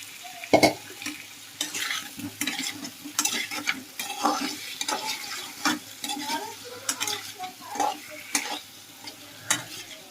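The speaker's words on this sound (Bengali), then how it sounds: "পেঁয়াজ লঙ্কাগুলো ভালোভাবে কষিয়ে নিয়ে আলুগুলো দিয়ে দিতে হবে" Potatoes sautéing with onions and chilies in a pan for an egg and potato curry: close, lively sizzling broken by frequent scraping and stirring strokes and light clinks of a spatula, with no voices.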